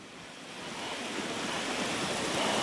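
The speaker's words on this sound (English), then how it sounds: "Intense rainfall caused severe flooding in New York, sending water gushing into a subway train platform." Floodwater from intense rainfall gushes onto a New York subway platform, a loud, steady broadband rush of pouring water that swells slightly and holds strong, with no voices.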